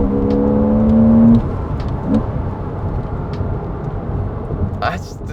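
Engine of a base-model Porsche 987 Boxster S revving hard, a steady rising harmonic drone for over a second, then dropping back to a loud, rumbling cabin engine noise that continues to the end.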